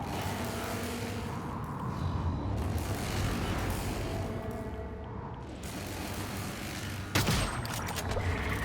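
Gunfire in the video game Prey, dense rattling shots layered over a loud rumbling soundscape, with a sharp burst near the end.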